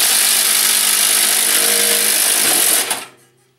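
A Milwaukee M18 FUEL 2653-22 impact driver spins a 1 1/8 inch hole saw through material, giving a loud, steady whirring drone that runs for almost three seconds and then winds down to quiet.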